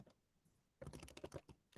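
Computer keyboard typing during an online meeting: a faint, quick burst of about a dozen clicking keystrokes after a near-silent pause.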